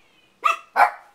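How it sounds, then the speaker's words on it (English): A dog barks twice in quick succession, loud and close by, with a short pause between the two sharp barks and no talk over them. "My dog's barking."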